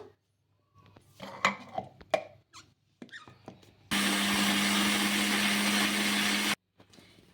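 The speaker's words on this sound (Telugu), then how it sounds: "నీళ్ళు అయితే వేసుకొని మెత్తగా మిక్సీ అయితే పట్టేసుకుందాము" A kitchen mixer grinder blends moong dal with green chilli, ginger and water, a loud steady whirring roar of about three seconds, preceded by scattered clinks and knocks of the jar being handled.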